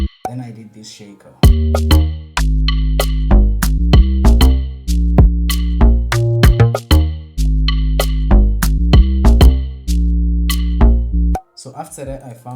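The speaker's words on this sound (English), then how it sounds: "Then I did this shaker." Beat production for South African house-style tracks: a shaker pattern riding over a repeating groove of punchy low drums and tonal bass notes, steady rhythmic loop at close, loud level, with a brief pause near the end.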